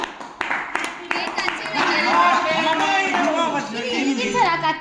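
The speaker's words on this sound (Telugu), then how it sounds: "క్లాప్స్ కొడుతున్నారు" People clapping at a home birthday celebration, a burst of claps in the first second followed by lively overlapping voices and children chattering that dominate the rest.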